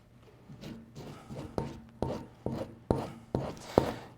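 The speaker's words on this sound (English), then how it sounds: "I might sand that just a little bit more, just to take some of the thickness off of it" Repeated rasping strokes of sandpaper on an artificial nose for taxidermy face mounts, a steady rhythm of about two scrapes per second, close and fairly loud, alone without talk.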